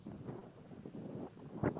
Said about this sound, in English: it's a little bit windy, so you might get a lot of wind.